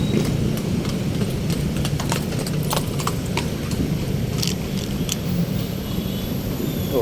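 Steady clip-clop of horse hooves on pavement along Manila Bay, a regular trotting rhythm over a constant traffic rumble.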